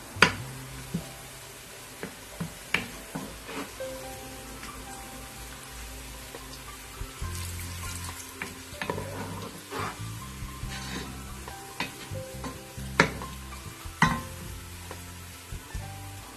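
Onions fry in ghee in a pan, a quiet crackling sizzle with scattered sharp pops and spatters. Occasional stirring knocks sit close by, and no voices are heard.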